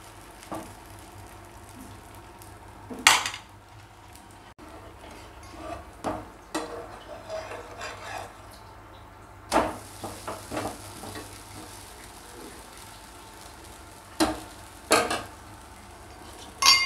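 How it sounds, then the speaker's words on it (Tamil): Dosa batter cooking on a hot pan gives a faint, steady sizzle, broken by sharp clinks and scrapes of a utensil against the pan every few seconds, close by and with no talking. "நம்ம தோசையை ஊற்றி எடுத்துக்கலாம்."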